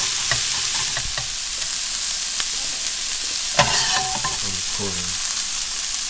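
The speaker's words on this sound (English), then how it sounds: "my vegetables have been sauteing for some minutes, a few minutes." Vegetables for fried rice sauté in a hot pan with a steady, close sizzle, broken by a few sharp clatters of stirring and a scrape near the middle.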